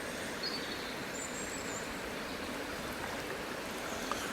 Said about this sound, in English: The river's only, I don't know, 30 feet across here, so there's a lot of water coming through.